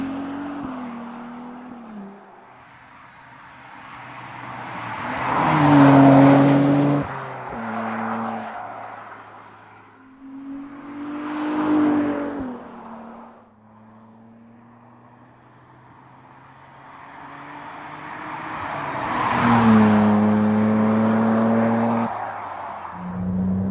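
An 830 hp Ferrari 296 GTB revs three times, each a loud rising and falling swell of engine note over a lower steady hum.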